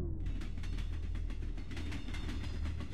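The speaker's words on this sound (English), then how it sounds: "There is a train." A trolley train in the video game Hello Neighbor rolls past with a steady rumbling clatter and rhythmic clickety-clack, loud and continuous, with no voices.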